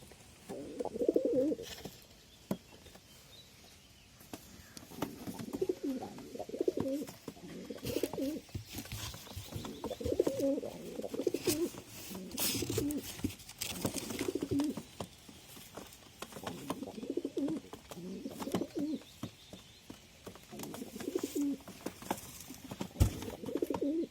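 A breeding pair of pigeons, a brown-headed male and a female just brought home from a bird market, coo in repeated soft, low rolling phrases close by, with light rustling and scuffling between the calls.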